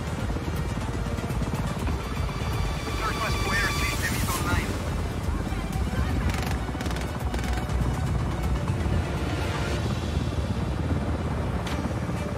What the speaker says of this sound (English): Bloody choppers.